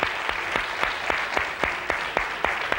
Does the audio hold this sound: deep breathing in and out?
no